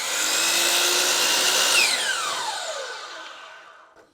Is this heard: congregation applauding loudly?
no